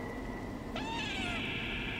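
A single drawn-out cat meow from the video game Stray, rising and wavering over a steady background hum, with a thin tone running underneath.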